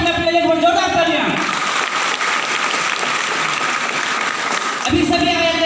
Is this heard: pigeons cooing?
no